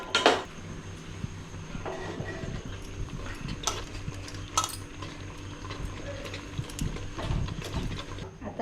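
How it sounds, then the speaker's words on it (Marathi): Cooked rice being tipped into biryani gravy in a pot over a gas flame, making soft thuds and scrapes with sharp metallic clinks of a spoon against the pot, close, with no talking. "आता आपण ह्याच्यामध्ये भात टाकूया"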